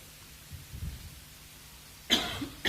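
An audience member coughs during a close-up card trick, a couple of short, sharp coughs near the end following a stretch of quiet room murmur.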